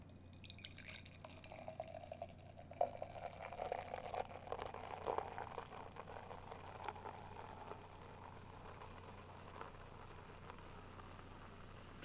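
A drink poured slowly from a freshly opened can gives a soft, continuous trickle and fizz with scattered drips, faint and close, fading gradually over several seconds.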